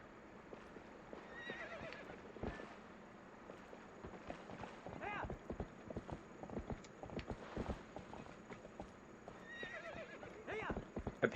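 In the Twilight Princess HD video game, a horse whinnies several times over steady clip-clopping hooves, while quiet background game music plays throughout at low volume.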